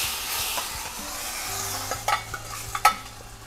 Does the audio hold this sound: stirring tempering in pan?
yes